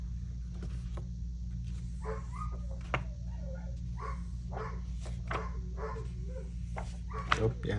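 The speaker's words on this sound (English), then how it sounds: "sorry for the barking" A dog barks in short, scattered bursts at middle distance over a constant low hum, with occasional yips and whimper-like sounds and no talking.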